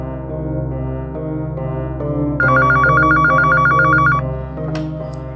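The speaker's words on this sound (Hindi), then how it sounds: "ये सार्थक फोन क्यों नहीं उठा रहा?" A telephone rings on unanswered, with bright repeated ring tones rising in a burst midway over a sustained musical underscore, followed by a short sharp click near the end.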